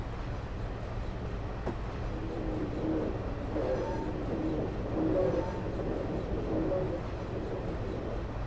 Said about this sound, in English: I'm just going to put the power back into idle and allow the train to coast until we can accelerate further